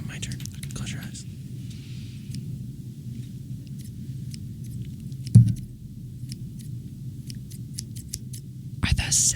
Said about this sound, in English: I love like scissors cutting.